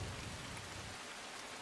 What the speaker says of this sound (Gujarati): જે પ્રકારે સુરતમાં વરસાદ વરસ્યો છે